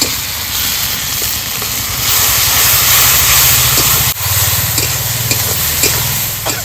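Spice paste hits a hot pan for a village-style egg curry, giving a steady loud hiss and sizzle that swells and breaks into bubbling crackle as it is stirred, with no talk.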